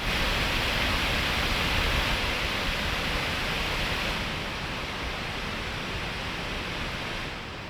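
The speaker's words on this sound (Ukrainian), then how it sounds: "Під час ігор чи тестів то шум вентиляторів є" Cooling fans of a Dream Machines RG5060-15UA25 gaming laptop whir in a broad, steady wash of noise, easing slightly lower partway through and holding there.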